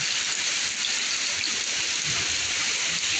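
Strong wind and heavy rain during a flood, a loud, continuous hiss of rainfall and rushing water that holds steady without a break.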